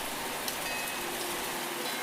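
A heavy storm downpour pours down as steady, dense rain, a continuous hiss of drops hitting surfaces with no voices over it.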